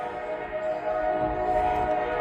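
A freight train passes while its horn sounds, a loud sustained tonal blast held steadily over the rumble of the rail cars through the whole stretch.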